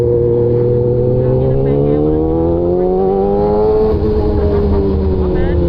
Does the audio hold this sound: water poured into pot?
no